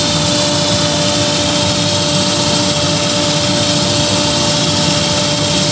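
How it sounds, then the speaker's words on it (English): A turned cup spinning on a lathe while being sanded gives a steady, unbroken whirring hum with a thin constant whine and grainy friction hiss, loud and close throughout. "So just sanding the cup nice and straight."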